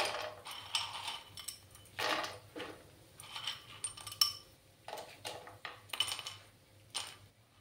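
Dried lentil dumplings (vadi) are dropped into hot oil in a home kitchen, giving a series of soft, irregular clattering bursts spaced over several seconds. The sound is quiet and close with no talking.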